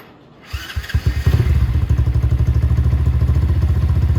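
A Venom X22 125cc motorcycle fitted with a Nibbi race carburetor starts after near silence, then settles into a loud, steady, rapidly pulsing idle close by.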